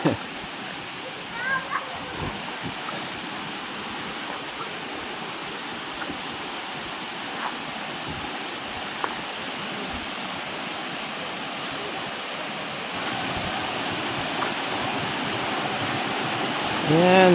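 Small mini falls at a nature camp in Liliw, Laguna, a steady broadband rush of falling water running the whole time, with people talking and laughing faintly over it.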